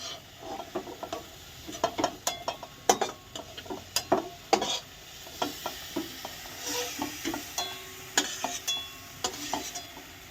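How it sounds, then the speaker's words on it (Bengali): Soya chicken meat fries in oil while a spatula repeatedly scrapes and clatters against the pan, sharp irregular clicks over a bed of crackling sizzle, close and steady for the whole stretch. "মাংস না গলে যায় সেই জন্য একটু তেলে ভেজে নিলাম"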